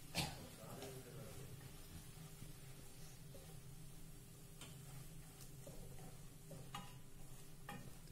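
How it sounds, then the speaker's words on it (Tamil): Spinach and paneer stirred and sautéed in a pan for a palak paneer side dish, giving a soft, steady sizzle with scattered light scraping ticks from a spoon throughout. "நம்ம சேர்த்த இந்த கீரை நல்லா சுருண்டு வர வரைக்கும் நல்லா வதக்கிக்கோங்க."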